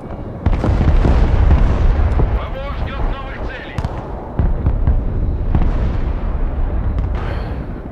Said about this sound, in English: I'm bombing the arty right here